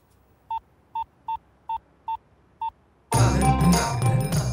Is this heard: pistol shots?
no